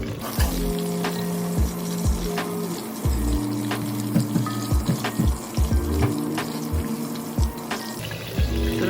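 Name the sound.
green chilies sizzling in oil while sautéing for biryani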